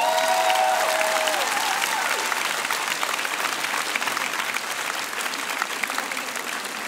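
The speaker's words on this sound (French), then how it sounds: "Un éboulement donc d'applaudissements pour Anaïs Roman" A live audience at a high school students' speech contest final gives a sustained round of dense applause that fills the room at an even level throughout.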